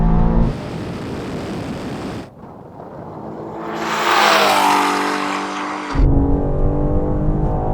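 A Bugatti Chiron Super Sport accelerates hard in a drag race against 1,000-horsepower BMW M5 and M4 cars, a loud close engine roar that drops at gear changes and then climbs again into a rising, high-pitched rev.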